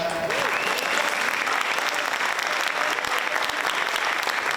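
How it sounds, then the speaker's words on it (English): An audience at a school varsity jacket night applauds a state champion, giving steady, dense clapping from a crowd that continues throughout without pause. "why don't you stand up for a round of applause?"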